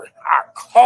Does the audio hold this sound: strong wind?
no